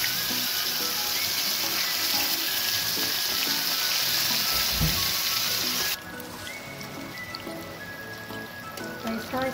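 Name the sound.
eggplant frying in oil for borani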